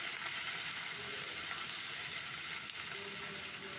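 Spring onions and eggplant sizzle in a pan while being stirred, a faint continuous hiss with soft occasional scrapes and no voices.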